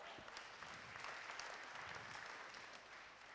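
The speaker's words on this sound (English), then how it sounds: "Again, another round of applause." Faint, distant audience applause for panelists at a conference panel on data-driven marketing, a steady wash of clapping that continues evenly from start to finish.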